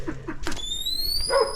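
A Great Pyrenees dog lets out a few short barks and yips outdoors, followed by a high, drawn-out whine, at moderate distance.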